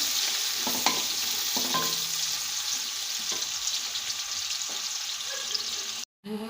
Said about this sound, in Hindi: अब हम इसमें कटे हुए प्याज डाल देंगे। जब प्याज लाइट से ब्राउन हो जाएंगे